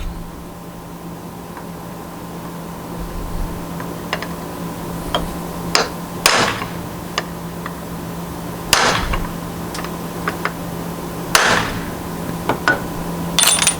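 A hammer strikes a center punch to mark metal before drilling, sending out scattered sharp metallic taps and clinks at irregular intervals over a low steady hum, nearby and without speech.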